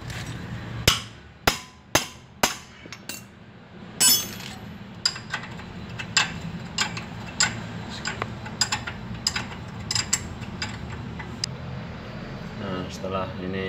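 A hammer strikes metal on a car tie rod to tighten it, giving a series of sharp, ringing blows, closely spaced at first and then more spread out, over a steady background hum.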